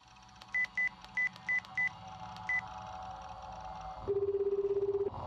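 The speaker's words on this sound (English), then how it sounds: "called Rimi's phone number" Telephone dialing tones from a visual novel video game: six short even beeps, then a longer low ringing tone, clear and close with no speech.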